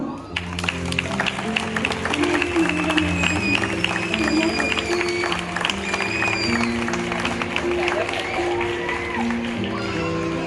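Applause from a festival commission crowd at a Falles proclamation ceremony, steady and sustained throughout, mixed with crowd noise and music-like tones.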